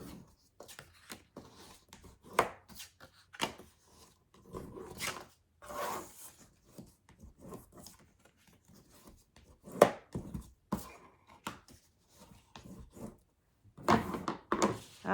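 Paper pages being folded over by hand, a string of close, crisp rustles, creases and soft taps in uneven bursts with short pauses between, quiet and with no talk.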